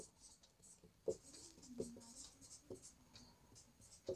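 Pen or chalk scratching out a maths formula by hand, a few short faint strokes in an irregular rhythm, quiet and close.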